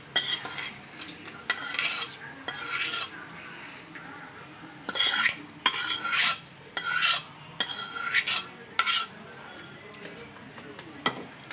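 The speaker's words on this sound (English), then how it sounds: "Now I am transferring this tarka into the chutney." A spoon stirs hot tarka of dried red chili into groundnut chutney for Nellore nei karam dosa, scraping against a pan or bowl in repeated close, bright bursts with short pauses between them.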